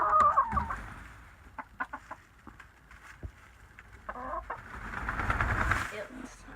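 Chickens clucking in a coop on a cold, dark winter morning at 11 below, with scattered soft clucks and rustling, nearby, and a person talking quietly among them.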